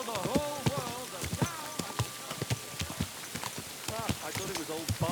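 Horse hooves clip-clop at an uneven pace in the medieval game Kingdom Come: Deliverance II, under steady rain-like ambience, with voices talking over the hoofbeats.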